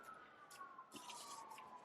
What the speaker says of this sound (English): Sirens, can you hear them?